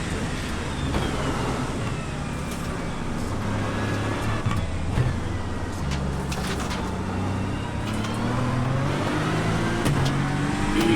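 A GT3 race car engine in the iRacing sim on a wet Virginia track, revving and accelerating through the gears with rising and falling tones, steady road and rain noise underneath, no voices.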